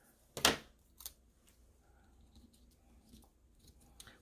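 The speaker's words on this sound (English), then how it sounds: "I'm just gonna cut it right here" Paper being cut with scissors while making collage doll tags, a single sharp snip up front followed by a smaller snip and faint handling rustles.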